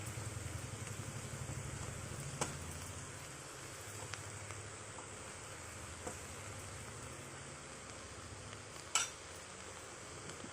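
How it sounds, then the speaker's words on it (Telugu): Carrot and beetroot fry in a pan for moringa flower biryani, giving a steady soft sizzle with a few sharp clicks of stirring, alone and fairly faint throughout. "క్యారెట్ బీట్రూట్ అన్నీ బాగా ఫ్రై అవ్వాలి."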